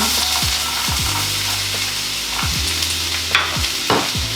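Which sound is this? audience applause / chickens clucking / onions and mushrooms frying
onions and mushrooms frying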